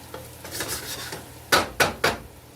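Tomato paste stirred in a pot with olive oil, onions and garlic, giving a soft low sizzle, then three sharp utensil clanks against the pan close by, with no talk.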